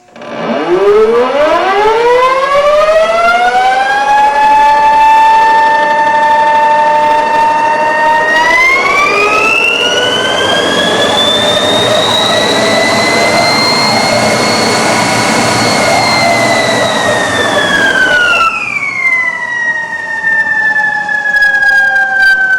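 A loud electric motor whine from a prototype high-efficiency electric scooter rises steeply in pitch as it spins up, holds a high steady tone, then winds down slightly.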